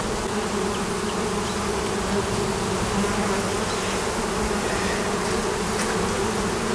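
Dense, steady buzzing of many honeybees from wild swarms on hive frames, close and continuous throughout, with no talking.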